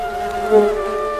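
Bees buzz close by in a brief, loud, humming drone that swells slightly midway, in a cartoon.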